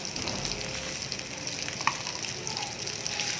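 Chili paste fries in a pan with a steady, close hissing sizzle throughout, broken once by a small clink of a utensil.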